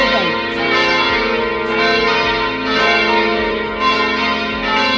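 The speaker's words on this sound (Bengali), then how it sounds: "এই ঘন্টাটা কিসের জন্য বাজছে জানি না ঠিক" A church bell rings steadily with rich sustained overtones at a church in Ottawa, Canada during the Tulip Festival, its tolls swelling in repeated waves and filling the scene without speech.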